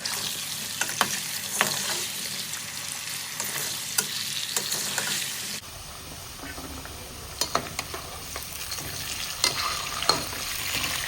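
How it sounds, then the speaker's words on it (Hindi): Marinated potato pieces fry in a pan with a continuous close sizzle and scattered pops and utensil clicks, the crackle thinning slightly partway through. "सबसे पहले आलू फ्राई करूँगी जो मैंने मैरिनेट किए थे"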